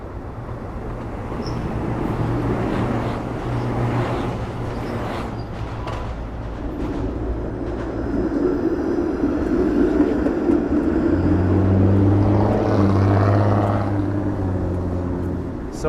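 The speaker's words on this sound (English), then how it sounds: "here's the Union Pearson Express train coming" A Union Pearson Express train passes in Toronto, a loud rumbling roar that swells over several seconds and stays heavy toward the end, heard up close with no talk.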